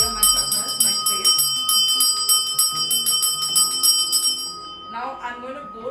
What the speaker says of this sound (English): I'm showing it with the bell because it's easier for you. I would just ring it.